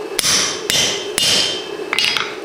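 A hammer strikes rebar on an anvil while forging rebar tongs: three loud, ringing blows at a steady pace, then a lighter, quicker cluster of taps near the end.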